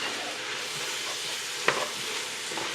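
Cabbage and noodles for haluska sizzle in a pan while being stirred, a continuous close frying hiss broken by one sharp utensil scrape partway through, with no talking.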